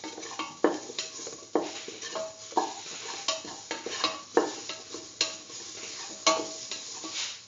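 Fennel seeds and salt frying in a pan while being stirred, a soft continuous sizzle broken by repeated scraping and clinking strokes of a utensil against the pan, close and without talk.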